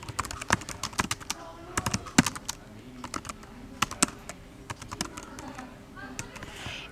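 Rapid, irregular clicking of keys on a computer keyboard, typed in short bursts with brief pauses, close and fairly crisp.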